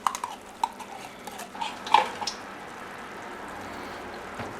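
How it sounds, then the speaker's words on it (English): Diced tomatoes, crushed tomatoes and tomato paste get stirred together in a cooking pot: a spoon scrapes and clinks against the pot in soft, scattered taps and a brief wet squish, all fairly quiet. "mix all that up."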